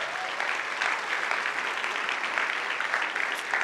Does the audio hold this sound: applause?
yes